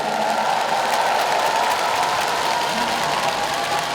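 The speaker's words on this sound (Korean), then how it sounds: "박수 한번 주세요." An audience at an outdoor community cultural festival in Ongjin County, Incheon, claps continuously and loudly for several seconds, a dense sustained wash of applause with a faint crowd murmur beneath.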